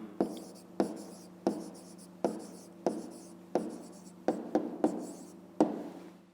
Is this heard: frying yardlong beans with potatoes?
no